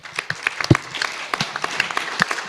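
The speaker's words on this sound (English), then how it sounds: "Keep that applause going for our fantastic panelists" Applause for panelists at the UN Ocean Conference in Lisbon, a moderate crowd clapping with distinct, uneven hand claps close by, steady throughout.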